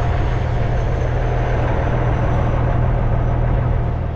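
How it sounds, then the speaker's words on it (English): Heavy trucks rolling past on an interstate beside a rest area, a dense continuous low roar and rumble of tires and engines, loud and steady without a break. "so that I could listen to the beautiful sounds of these trucks"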